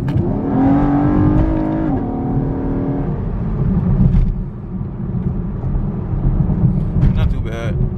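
A V6 Camaro 1LT with an axle-back exhaust and cold air intake revs hard in a quick pull, a loud, close engine roar that rises for about three seconds, then drops to a rumbling idle with a voice talking over it.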